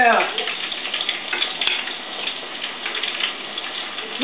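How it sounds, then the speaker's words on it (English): Floured chicken legs fry in hot grease, giving a loud, continuous crackling sizzle with bursts of popping spatter close by, steady throughout with no talking. "we're going to drop this chicken in this hot grease"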